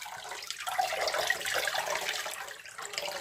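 Water running and draining away from a rinsed piece of knitted or crocheted work during blocking, a steady close splashing gush like a tap or sink emptying, with no speech.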